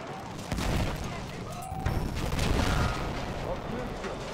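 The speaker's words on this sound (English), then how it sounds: "Is it just me, or are the explosions on some of these vehicles massively overdone?" Vehicle explosions and gunfire in the video game Battlefield 1, with booming blasts and rattling shots layered into a dense, continuous battle din, with voices talking over it.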